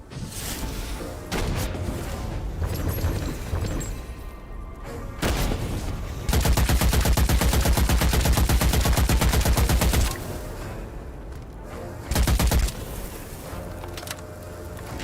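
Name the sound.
gunfire from the video game Witchfire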